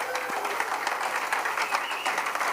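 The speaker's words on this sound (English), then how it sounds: "let's give them a hand of applause" Steady applause from a crowd at the 2020 Iowa caucuses, dense clapping filling the whole stretch at a moderate distance.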